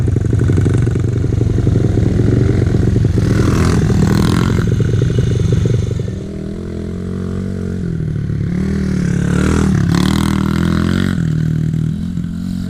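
A Honda 50 motorcycle fitted with an 88cc big bore kit rides nearby, its small engine buzzing loud and steady, easing off midway, then revving up again with some clatter.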